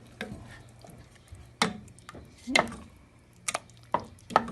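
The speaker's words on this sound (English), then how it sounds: "And we're going to give that a little stir." Tinned beans are stirred in a pot, with a handful of sharp spoon scrapes and knocks against the metal at an irregular pace over a quiet background.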